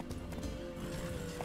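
A horse gallops in The Witcher 3 video game, its hoofbeats quick and rhythmic in a short, faint burst.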